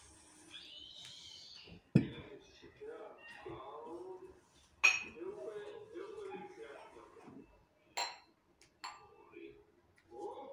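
Dishes and glassware being unpacked for tea season give a few sharp, separate clinks and knocks over about ten seconds, with quieter rustling and handling noise between them.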